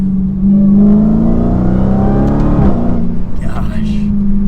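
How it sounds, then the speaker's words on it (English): A Dodge Challenger SRT Hellcat Redeye Widebody's supercharged engine revs loudly and steadily, a deep sustained roar with a rising whine, while a person talks over it. "this has that true muscle car feeling. Oh man, such good sounds out of it. And the supercharger whine is insane."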